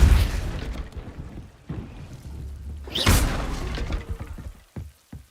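A Depulso spell strikes in the Hogwarts Legacy video game with a sharp bursting whoosh partway through, among scattered lower thuds and rumbles, fairly close, with no speech.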